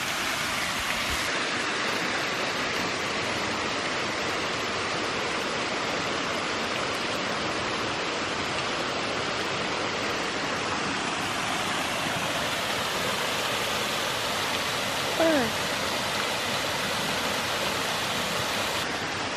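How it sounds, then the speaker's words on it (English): Steady broadband rush of a small woodland waterfall near a cabin, a continuous even wash of falling water with no breaks, heard alone at moderate level. "I'm thinking it's a little waterfall, which would be amazing"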